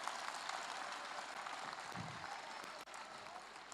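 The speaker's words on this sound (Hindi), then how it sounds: "तेजस के लिए जोर से ताली बजाओ" A room full of students applauding for a classmate, dense steady clapping from many hands sustained throughout, moderately distant with a faint voice briefly audible beneath it.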